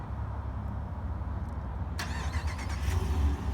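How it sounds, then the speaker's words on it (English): A 2021 Ram 1500 Rebel's Hemi V8, started by remote, cranks and catches about two seconds in, settling into a steady deep rumble over a low background drone. "the Hemi comes alive"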